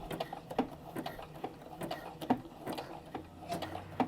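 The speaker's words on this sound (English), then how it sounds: "So we're just going to stitch down." A sewing machine stitches down a seam on a simple skirt, its needle ticking in a quick, even mechanical rhythm. The sound is soft and close and continues throughout.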